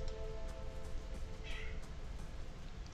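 Cat meows from the video game Pillars of Eternity, short faint calls over a steady, dense game background bed, with no one speaking.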